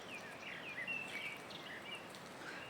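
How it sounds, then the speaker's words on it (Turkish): Birds sing faintly outdoors near a small house under construction, giving thin high chirps and short warbling phrases over a soft, steady background hiss. "burayı yaşanılır kılan tek şey sanırım kuş sesleri olacak"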